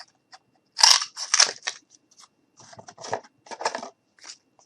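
Scissors cutting cardboard up close, several crisp snips and crunchy cuts that come in short groups with quiet gaps between them, and no one speaking.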